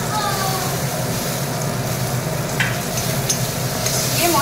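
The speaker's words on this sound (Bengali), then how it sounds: "এবার ভালো করে কষাবো।" Spices and chopped tomato being sautéed in a pan for a Bengali fish curry, giving a steady, dense sizzle with scraping stirring, continuous and close throughout.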